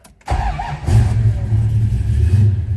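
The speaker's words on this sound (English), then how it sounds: "Let's go ahead and start it up a little bit cold-blooded." A 1976 Plymouth Volare started cold: a brief crank catches, then the engine settles into a loud, steady, rumbling idle up close.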